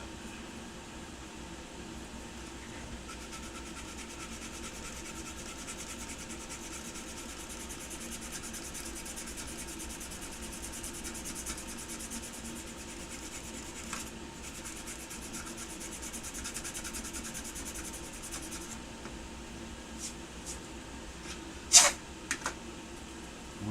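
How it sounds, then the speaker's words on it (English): Steady abrasive rubbing of sanding spray paint off a model runs continuously without pause, a broad scratchy hiss with a brief sharper knock near the end. "problem with sanding spray paint off is that it clogs up my sanders"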